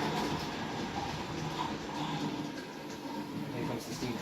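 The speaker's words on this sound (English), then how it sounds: "Here comes the steam train." A Hornby R9360M Playtrains high-speed train set runs along its track with a steady rolling rumble and faint clatter, fairly loud and continuous, with ambient station sound effects mixed in.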